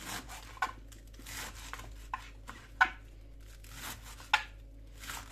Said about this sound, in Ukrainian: Капусту я нарізаю дуже звичайним способом.